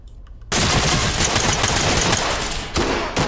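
Rapid automatic gunfire in the tactical shooter game Ready Or Not, a loud, dense burst that erupts suddenly after a moment of quiet, runs for over two seconds, breaks off, then returns in a short second burst.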